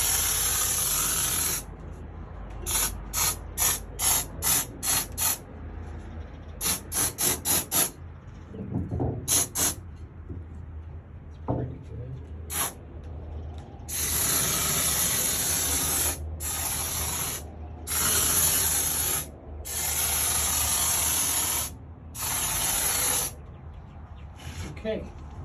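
Insulation sprays from an aerosol can inside a steel enclosed trailer, loud hissing bursts, some short and rapid, others long and sustained, separated by pauses, with a few faint handling noises between them.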